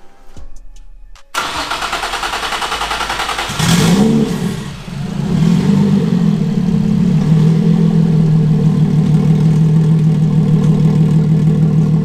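A JDM car engine, not yet tuned, cranks over and fires up loudly nearby, revs once, then settles into a deep, steady, rumbling idle.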